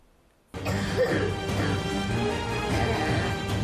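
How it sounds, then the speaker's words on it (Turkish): An 11-year-old girl with a cough that has gone on for years coughs and clears her throat close to the microphone, a sudden start followed by rough, raspy bursts over a low room hum. "Kaç yıldır bu şekilde öksürüyorsun?"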